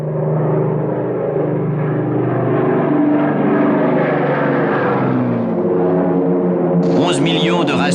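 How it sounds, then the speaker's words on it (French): Large wartime transport aircraft arrive over a front-line sector held by Canadian troops, heard as a loud, continuous, droning engine roar that fills the whole stretch, with a brighter burst of sound entering near the end. "les gros avions de transport arrivèrent"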